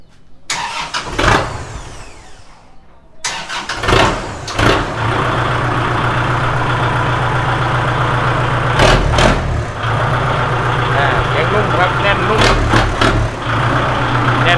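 Kubota L-5018 diesel tractor engine with a modified performance exhaust cranks, starts and settles into a loud, throbbing idle through a deep-toned exhaust, with a few revs and clunks along the way.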